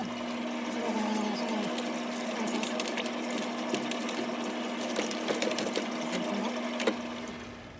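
A shop parts washer runs continuously while solvent cleans clock tower clock parts, a steady mechanical pump hum with sloshing, trickling liquid and occasional sharp clicks throughout.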